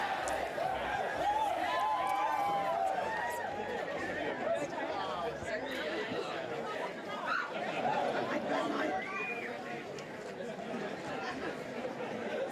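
Dense crowd babble at a political rally, many voices chattering and calling out at once, with occasional laughter, steady and fairly loud throughout.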